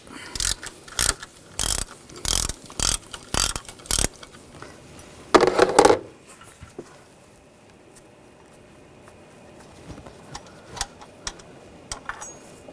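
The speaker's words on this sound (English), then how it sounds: "At the base of the bracket, use a 13mm socket." Ratchet on a 13mm socket backing out a bracket bolt on a 2000-2006 BMW X5 3.0L L6, a close series of sharp rhythmic clicking bursts followed by quieter scattered clinks and handling.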